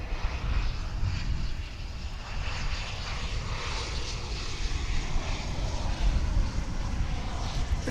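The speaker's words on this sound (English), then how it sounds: "Here comes an Embraer 145 American Eagle." An Embraer 145 regional jet in American Eagle livery arrives at a large international airport, its engine roar steady and loud throughout, a continuous broadband rumble with no talk over it.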